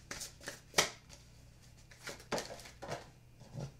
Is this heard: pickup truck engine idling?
no